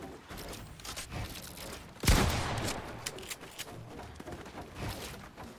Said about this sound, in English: Pull out your shotgun, hit, pull out your shotgun, hit